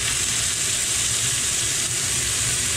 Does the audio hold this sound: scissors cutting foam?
no